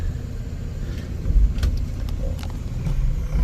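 Inside a 1965 Dodge Dart GT with a factory four-speed manual and dual Holley carburetors, a steady low engine rumble carries the car along the road, with a few faint knocks and clicks over the drone.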